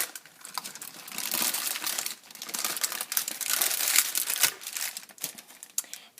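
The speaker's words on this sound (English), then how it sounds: "pulling back that parchment." A hot parchment paper packet, baked around fish, is carefully pulled open, making close, continuous crinkling and rustling with uneven surges and a few sharper crackles.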